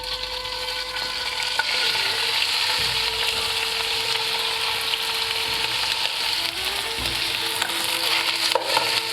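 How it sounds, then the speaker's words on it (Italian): Meat for Chinese-style stir-fried rice noodles browning in hot oil in a pan, a loud, dense and continuous sizzle close up, with faint stirring scrapes and no voices. "Appena l'olio si scalda un attimo ci si mette la carne."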